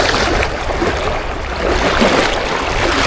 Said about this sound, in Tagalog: Lakas ng agos talaga.